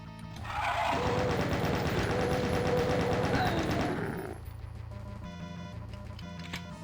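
Rapid, continuous gunfire rattles for several seconds, dense and loud, then gives way to quieter game sounds in the video game Doom.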